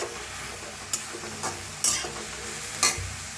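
Flat beans (ghevda) roast in a little oil in a pan, a soft low sizzle broken by several sharp spatula scrapes and clinks, no talking.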